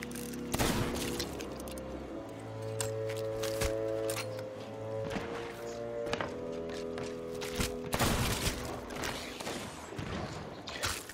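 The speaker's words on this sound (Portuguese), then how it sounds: "já deu alguns tiros nas pernas delas" Gunshots ring out in the pirate video game Sea of Thieves during a fort battle against skeletons, with repeated sharp cracks and thumps scattered irregularly over a busy background of game music and effects.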